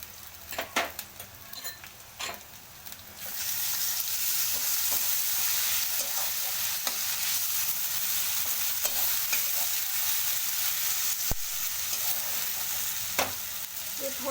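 Garlic and ginger paste fries steadily in a pan for chicken biryani, a loud, even sizzle swelling after a few seconds of scraping stirs and light utensil clicks, with occasional taps against the pan.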